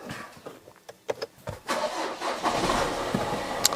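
A Volkswagen engine with a weak battery and a DSG gearbox cranks in a few uneven, sluggish bursts, then catches and settles into a steady close running rumble.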